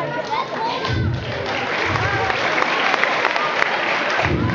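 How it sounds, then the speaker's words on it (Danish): Audience clapping at a school talent show, a steady dense patter of hands filling the room, with low thumps and crowd noise mixed in. "Nej, I skal ikke klappe."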